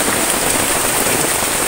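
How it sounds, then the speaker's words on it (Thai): Heavy rain pours steadily in a forest during a thunderstorm, a dense, even hiss of drops drumming on surfaces, loud and close with no break. "นี่บรรยากาศตอนนี้นะครับพี่น้องฝนตกหนักมากเลยนะครับ"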